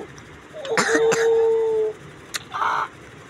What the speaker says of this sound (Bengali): কাশি দিচ্ছে।